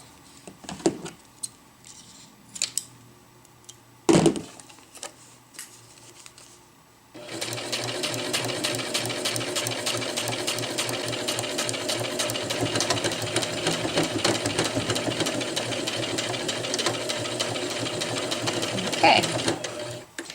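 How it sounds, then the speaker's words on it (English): A sewing machine runs steadily and loudly, stitching forward and backing up over a zipper to lock it onto a round bag's pocket, after a few scattered clicks and a brief spoken word at the start. "I'm just going to lock that zipper in place by backing up on it a few stitches."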